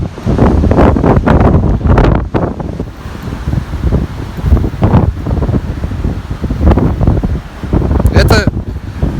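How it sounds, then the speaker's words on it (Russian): Storm on the Kobuleti seafront: loud, gusting wind buffets the microphone in heavy bursts over the rumble of crashing surf, with a voice heard now and then. "Такой вот кабулецкий шторм."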